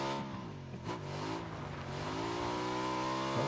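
A motorbike ridden in the PUBG video game, its engine droning steadily and rising in pitch as it accelerates, continuous and fairly close, with no voices.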